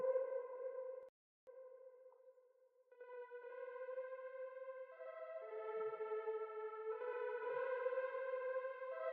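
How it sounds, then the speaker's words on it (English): Free VST plugin synthesizer playing sustained tonal notes with a configured preset, steady harmonic tones shifting pitch in a few long held steps after a brief gap, clean and alone. "I'm gonna to add here a cubic synth for you to hear the difference of the default values and what I made."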